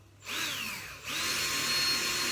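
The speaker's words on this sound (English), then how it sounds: "And I'm drilling on those marks that I've done." A power drill pre-drills holes in a timber frame for a workshop window, its motor whining up loudly twice in close succession with a brief dip between runs.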